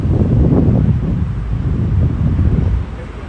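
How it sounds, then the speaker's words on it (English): Outdoors, wind gusts buffet the microphone in a loud, low, rumbling rush that holds steady and eases slightly near the end. "Feel the wind."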